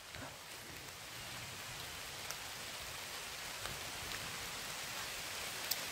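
Rain falling outdoors in a rural forest area, a steady soft wash of drops with a few faint louder patters, continuous and even, no voices.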